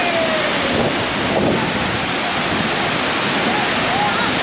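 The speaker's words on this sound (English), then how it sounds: "This is the waterfall." Thiruparappu waterfall in Tamil Nadu pours steadily beside a temple bathing spot, a constant, dense roar of rushing water filling the whole clip without pause.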